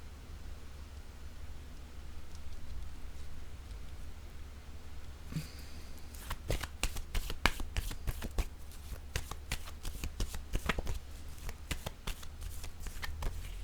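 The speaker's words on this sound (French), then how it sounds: "Je vais déposer une autre carte pour la féminine." Tarot cards laid down on a table, coming after a quiet stretch as a quick run of crisp, close taps and light rustles.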